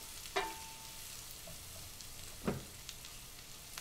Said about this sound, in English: I'm gonna add the dates into the onions and the garlic. When you put the dates, you have to stir it all the time.